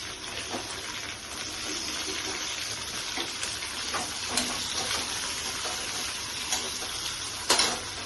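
Brinjal pieces fry in hot oil with a dense, continuous sizzle, broken by occasional sharper crackles and clinks of stirring, close and steady throughout, with no talking.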